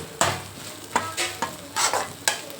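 Egg kothu parotta is tossed and mixed in a hot pan, six or seven sharp scraping strikes of a metal spatula in an uneven rhythm over a low sizzle, close up and without voices.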